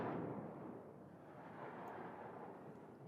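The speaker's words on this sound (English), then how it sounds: "Oh wait, nope, they're explosions." Explosions in the fighting game Tekken 7 rumble as a dense, continuous low roar, heavy and sustained for a few seconds without distinct separate blasts, alone with no talk.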